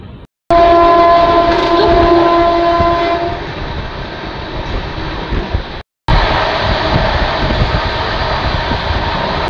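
Passenger train 13115 on the Sealdah–Jalpaiguri run racing at high speed, a loud steady rumble of wheels and wagons with a long sustained horn tone early on, briefly cut then resuming.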